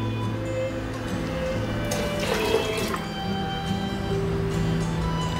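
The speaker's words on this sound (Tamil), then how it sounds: "ஒம்பது டம்ளர் தண்ணி இதில் சேர்த்துட்றேன்" Water is poured into a pot for little millet pongal in a home kitchen, a short splashing gush lasting about a second over a steady low hum.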